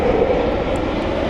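A FedEx Boeing 767 heavy airliner inbound from Memphis flies past on a rainy day in Cleveland, a loud, steady engine roar that fills the whole short stretch with no talking over it.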